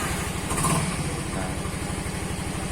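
A Yamaha Mio M3 scooter engine idles with a steady, low, close putter after starting. A voice says a single word over it.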